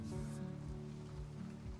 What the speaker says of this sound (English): snow's turned to rain.